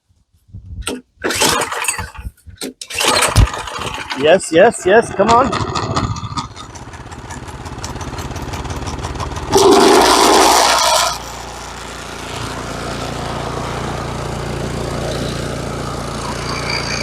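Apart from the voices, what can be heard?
Craftsman two-stage snowblower engine starting and running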